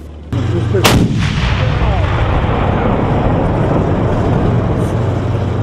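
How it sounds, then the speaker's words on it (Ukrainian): A single loud artillery blast near the start, followed by a sustained heavy rumble and low mechanical drone that continues to the end, at a military training exercise. "Призвичайтеся до гучних вибухів, навчитися правильно користуватися гранатометом, прицільно стріляти з БМП."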